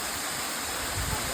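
Steady broadband rushing of a waterfall at an outdoor stop on a trip, continuous and fairly loud with no break, filling the whole stretch without talk.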